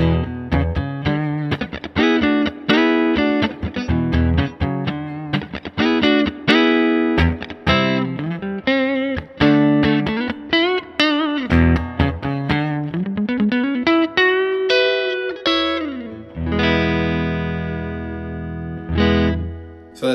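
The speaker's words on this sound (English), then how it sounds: "This is the neck pickup going into the Princeton." A Warmoth Strat-style electric guitar in surf green plays through its neck pickup, clean into a Princeton amp with a little reverb and all pedals off, a lively run of plucked notes and chords that ends on a ringing, sustained chord.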